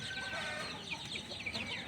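Soft peeping and clucking of chicks sunbathing in cool weather repeats in quick bursts against a faint, steady background hiss.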